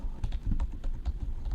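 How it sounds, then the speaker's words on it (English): Rapid typing on a computer keyboard, close and fairly loud, with irregular clusters of sharp key clicks and thumps filling the whole short stretch, no voices. "That's what that typing is that you hear."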